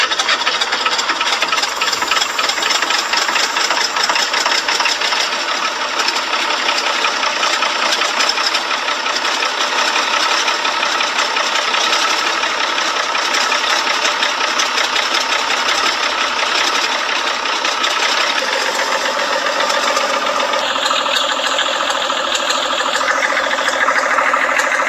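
A TD9 bulldozer's engine runs continuously at a steady, loud, rattling pace, the mechanical clatter filling the whole stretch with only a slight change in tone near the end.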